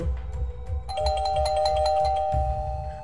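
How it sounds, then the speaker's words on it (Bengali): Doorbell ringing at a house, one bright electronic chime that sounds several tones in a row, close and clear, over a low background hum. "কখন থেকে যে কলিং বেলটা বেজে যাচ্ছিল তা সে শুনতেই পায়নি।"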